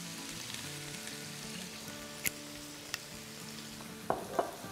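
Vegetables for Singaporean noodles sizzle steadily in a hot pan as about a tablespoon of vinegar goes in, with a few sharp spits and crackles near the end over the continuous frying hiss.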